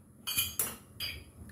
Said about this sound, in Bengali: গ্যাস জ্বালিয়ে প্যান বসিয়ে দিয়েছি।